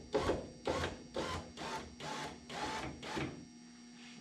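A street rod's power window regulator drives the door glass up and down while the glass sits loose in its tracks. It makes a run of about seven evenly spaced grinding mechanical bursts, close and fairly loud, with no talking.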